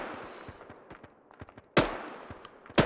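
Scattered gunshots crack at a distance in the video game Arma 3, followed by two much louder, sharp shots close by.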